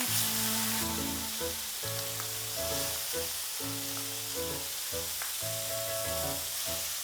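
Bacon strips crackle and sizzle over a hot BBQ pit, a steady hiss that runs the whole time under tonal background music.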